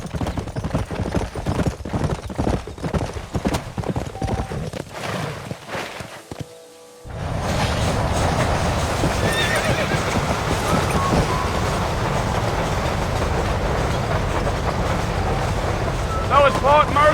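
Horses in the Red Dead Redemption video game, with a steady clip-clop of hooves moving through gusty wind and outdoor ambience. A brief near-silent dropout comes partway through, then the hoofbeats and wind return.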